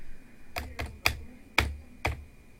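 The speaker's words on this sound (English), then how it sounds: "we can try typing it in right here so you can see how it would work." Keys on a computer keyboard tapped as text is entered into a form field, five distinct clicks in an uneven rhythm, close and clear over a faint steady hum.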